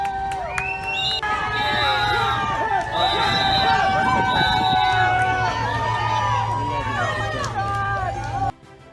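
A crowd of supporters greeting President Trump cheers and shouts continuously, with whoops and overlapping voices; the loud roar cuts off abruptly near the end.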